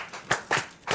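Someone claps their hands during a breakfast show about traditional Ewe dishes: three sharp claps at an uneven, off-beat spacing, close and moderately loud, with nothing else going on between them.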